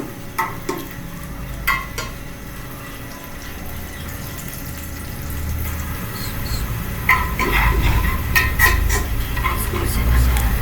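Sliced onions frying in a pan for Punjabi kadhi, a low steady sizzle with scraping and stirring clatter that grows busier toward the end, brief knocks early on.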